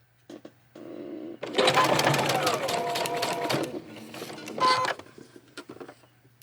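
A sewing machine stitches a silk skirt in a fast mechanical whir that runs for about two seconds, pauses, then buzzes briefly again, with faint voices and quiet gaps around it.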